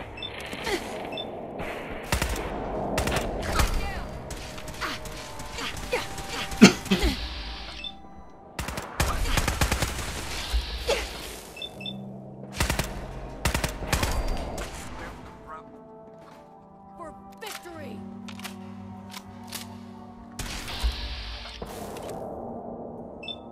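Gunfire in the video game Fallout 4, with bursts of automatic fire and single shots cracking in irregular clusters, interspersed with mechanical clicks and reload sounds; fairly loud and close, with no talking.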